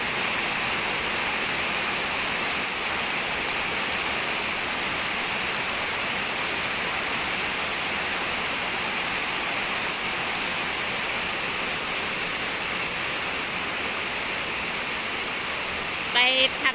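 Steady, dense roar of heavy rain pouring down without a break outside a house during a run of storms, a broadband hiss close by that stays loud throughout.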